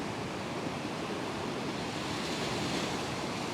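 Waves wash against a beach as a faint, even, steady rush of surf with no voices.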